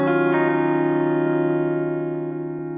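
An electric guitar fed through a Line 6 Helix Double Take lo-fi block at full wet mix rings out in a held chord, with a few faint picked notes and small glitchy wobbles over a gradual fade.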